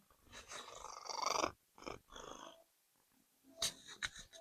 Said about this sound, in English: There is a cat who has decided to make an appearance.